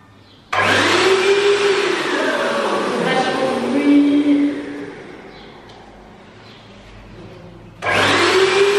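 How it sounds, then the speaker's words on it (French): Paint spray gun running during a test spray while refinishing a desk, a loud, steady motorized hiss that drops to a quieter hum, then restarts abruptly at full strength. "On est parti pour essayer le pistolet à peinture. Je vais faire un essai d'abord."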